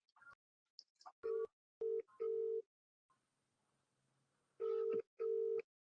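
Telephone dialing tones during a call: a series of steady keypad beeps in two bursts, separated by a quiet stretch with a faint hum and a few short clicks.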